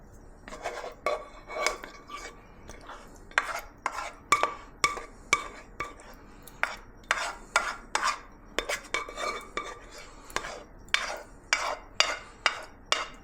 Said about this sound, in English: Let's get this sauce in there,